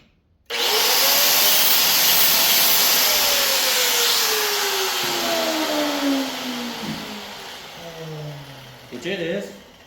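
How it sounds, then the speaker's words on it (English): An angle grinder touched against the copper winding of a large scrap electric motor: a loud whirring whine starts abruptly, then sags and drops in pitch as it bites, ending with brief rough grinding. "Now we're just going to touch off on it with the grinder"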